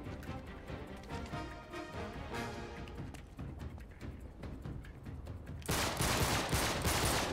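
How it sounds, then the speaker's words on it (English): Sniper gunfire in the video game Uncharted 3 on PS4 cracks amid a dense, continuous wash of battle sounds and music, with repeated sharp shots and a louder, harsher stretch toward the end. "That's how snipers shoot."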